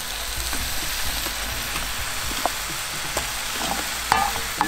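Onions and soup vegetables roast in a hot Dutch oven for a beef neck braise, with a close, steady sizzle and occasional clicks and scrapes of stirring.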